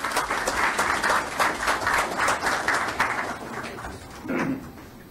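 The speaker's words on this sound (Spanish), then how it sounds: "pedimos fuertes palmas" Audience applause at a talk on Lima's transport problems, a burst of many hands clapping loudly at close range before tapering off into a few scattered claps.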